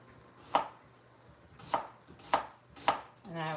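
A knife cuts through a whole onion on a cutting board, slicing it into long thin strips. Four crisp, separate chops land at uneven intervals against a quiet background, and a short tonal sound follows at the end.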